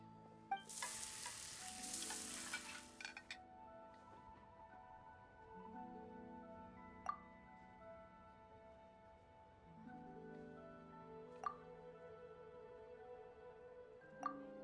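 Food frying and sizzling in a pan in the Genshin Impact game world, a steady hiss with a loud burst near the start, stirring and occasional clinks, under soft layered background music.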